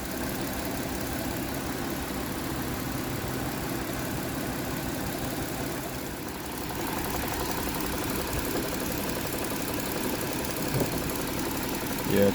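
Kia engine idling with a cylinder misfire, a steady close rumble with an uneven, lumpy beat, running continuously with a slight dip midway and no talking.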